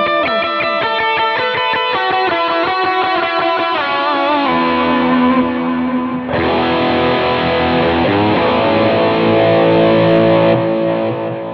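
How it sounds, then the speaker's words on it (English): Electric guitar played through a distortion pedal into a Vox AC30 amp, loud and close, with picked chugging notes shifting into sustained, saturated chords that ring continuously throughout. "let's have a listen to that same Vox AC30 amp with kind of a distortion pedal in front of that"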